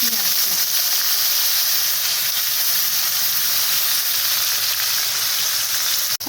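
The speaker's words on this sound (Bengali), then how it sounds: "দিয়ে দিচ্ছি দুটো তেজপাতা পেঁয়াজটাকে একটু নাড়াচাড়া করে হালকা করে ভাজা ভাজা করে নেব" Bay leaves and onion frying in oil left over from frying chicken, a loud, dense, steady sizzle close up with a brief crackle at the start and a sudden cutoff at the end.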